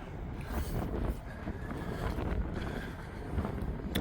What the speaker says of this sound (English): you feel the wind even more